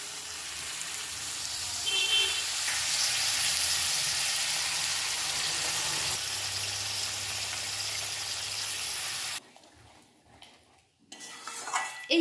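Water poured into a pan of fried, sizzling spice paste with ground charmagaj for a rui fish kalia, hissing loudly and steadily before cutting off abruptly, followed by faint clinks of utensils.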